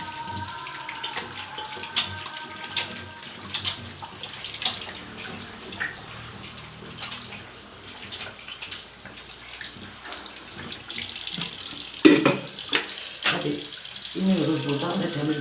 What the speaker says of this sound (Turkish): Hemen elimi yıkayayım.